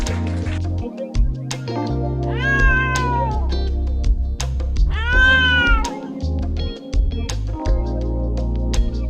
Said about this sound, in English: It says meow meow.